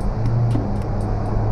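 An automatic car's engine hums steadily after a downshift to second gear in manual M mode on a highway climb, a loud, even drone with steady road noise and no talking.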